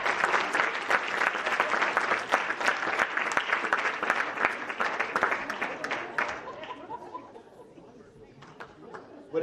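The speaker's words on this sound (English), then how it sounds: "Please join me in giving our recipients another round of applause." Audience applause for award recipients at a West Grand High School FFA banquet: dense, sustained clapping from a large crowd, with some chatter, thinning out toward the end.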